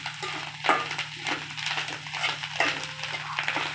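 A fish egg fry being stirred with spices in a pan, soft scraping strokes repeating over a faint steady sizzle, close and quiet.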